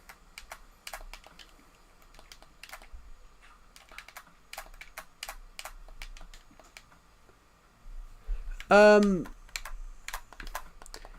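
Typing on a computer keyboard produces scattered, quiet, quick clicks in short irregular bursts, with a brief louder voiced sound midway through.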